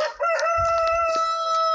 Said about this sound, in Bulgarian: Тук има кокошки